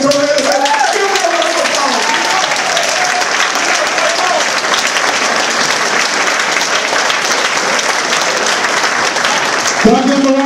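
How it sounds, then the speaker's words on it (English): Sustained audience applause during a talk on recognizing the genius in Black youth fills the hall loudly and steadily for about ten seconds, with voices faintly audible at the start and a brief vocal sound near the end. "Can I give them a round of applause?"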